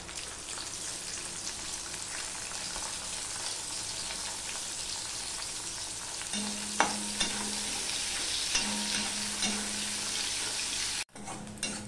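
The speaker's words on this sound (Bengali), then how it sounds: "দিয়ে দিলাম 2টো কাঁচা লঙ্কা, আর দিয়ে দিলাম এই একটা পেঁয়াজ কেটে রেখেছিলাম, সেই পেঁয়াজটা।" Sliced onion and two green chillies fry in hot oil with nigella seeds in a pan, a steady dense sizzle throughout, close and loud, with a few faint clicks of stirring and a brief dropout near the end.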